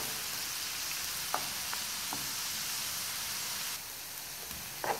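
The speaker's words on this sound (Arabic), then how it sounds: "نقلو هكا شويه البصل، ندبلوه" Onion softening in a pan, giving a faint, even frying hiss with a few scattered light clicks and pops.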